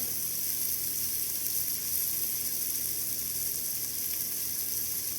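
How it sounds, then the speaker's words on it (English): Meat searing and browning in hot fat in a stew pot for green chile stew, giving a steady, close, even sizzle with a constant hiss and no voices. "I have a really nice sear going on here"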